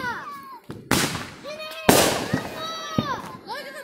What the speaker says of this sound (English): Look at the fireworks